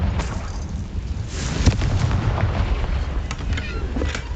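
A Confringo fire spell blasting in Hogwarts Legacy, heard as a dense, rumbling explosive roar with sharp cracks and booms layered through it, loud and continuous for the whole stretch.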